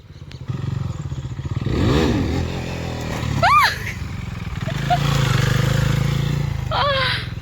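A KTM RC 390 motorcycle engine drones and revs close by, the pitch climbing and falling as it is ridden, with sharp squeaky chirps breaking through twice.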